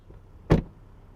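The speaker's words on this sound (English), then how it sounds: "Well-built door close sound up front." A 2021 Land Rover Defender 110 front door shuts with one short, solid, close thud in an otherwise quiet setting.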